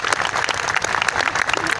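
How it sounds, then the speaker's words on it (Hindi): Brisk, dense applause from the audience at a Hindi poetry recital in Bhopal, greeting a poem; steady clapping from many hands goes on throughout, close and lively. "एक बार जोरदार तालियां कविता के लिए बजा दीजिएगा"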